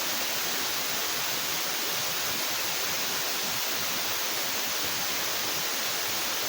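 A waterfall in the video game Escape the Backrooms gives a steady, unbroken rushing roar of falling water that fills the whole stretch evenly, with no voices.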